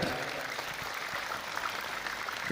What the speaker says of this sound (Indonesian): tepuk tangan untuk Az-Zahir.